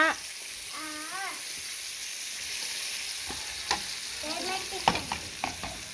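Garlic frying in a pan as a papaya dish is cooked, a steady hiss with a few utensil scrapes and clinks, close by, no talking.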